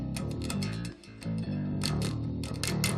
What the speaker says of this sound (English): And this is with pitch shifting on.